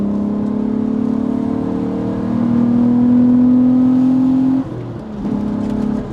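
Hot-running VR6 engine in a VW Golf revving hard, a loud steady drone rising in pitch then dropping briefly before picking back up, close and continuous with no talk.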